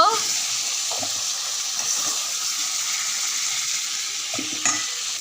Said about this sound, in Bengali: সবজিগুলো ভালো করে ভেজে নিলাম